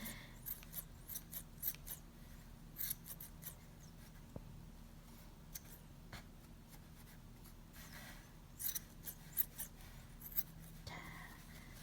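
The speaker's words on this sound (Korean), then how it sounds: "이거 하실 때는 가위가 좀 잘 드는 걸로 하셔야 돼요" Sharp scissors trim the yarn of a knitted pom-pom made on a pom-pom maker, giving quiet, scattered snips and soft rustles at close range with no talking.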